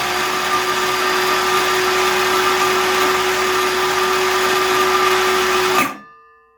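A DeWalt 20 volt cordless circular saw with a 6.5 inch blade runs at a steady, loud whine for about six seconds with no load, then cuts off and spins down quickly to silence.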